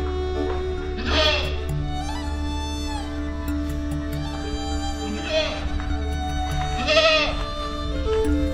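Goats kept at a housing relocation site in the Philippines bleat in several loud, wavering calls spaced a few seconds apart over a low steady hum and background noise.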